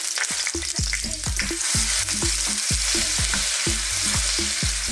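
Garlic and ginger frying in hot oil in a pan, a loud steady sizzle with repeated scraping stirs of a utensil against the pan, no voices.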